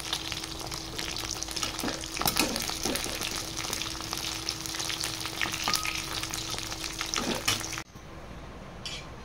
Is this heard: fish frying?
yes